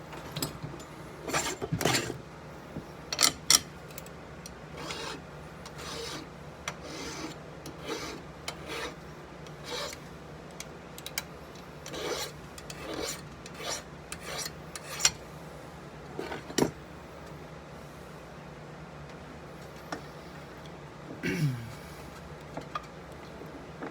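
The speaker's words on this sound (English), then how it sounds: "time to sharpen a bit." A file rasping back and forth to sharpen a Z Trap trigger upgrade on a DP trap, repeated close strokes in uneven bursts with short pauses between them.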